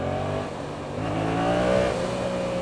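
A Yamaha FZ07 motorcycle accelerating hard, its engine note climbing steadily in pitch and loudness, heard close with a brief dip before surging on.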